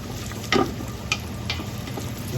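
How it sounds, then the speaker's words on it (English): Onions sautéing in a pan make a soft, continuous sizzle, broken by a few brief clicks and scrapes as they are stirred. "We let saute the onions to a transparent color"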